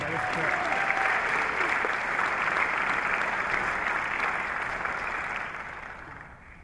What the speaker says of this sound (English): Let's give Dana an exciting round of applause